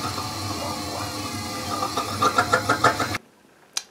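A waste oil heater burner with a siphon nozzle roars steadily while warming up, then breaks into a rhythmic pulsing chug before cutting off abruptly. A brief faint sound follows the cutoff.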